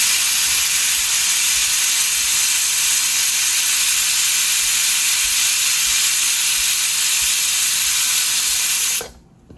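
A pressure cooker cooking sundal at a roadside street food stall lets off a loud, continuous rush of steam that holds for about nine seconds and then cuts off abruptly.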